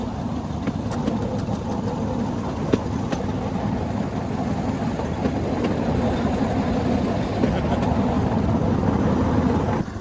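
A Cambodian bamboo train idles on its rails, a steady low engine rumble with sharp metallic clicks and ticks scattered over it, continuous and close, without speech.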